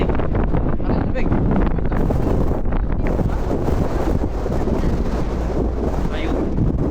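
Cold wind blows hard in a canyon in Kazakhstan, roaring steadily across the microphone as a loud, constant buffeting rush with no letup.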